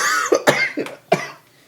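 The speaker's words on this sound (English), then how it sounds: "I'm laughing and coughing at the same time." Four sharp, close coughs in quick succession, each a short harsh burst with throaty clearing between, dying away at the end.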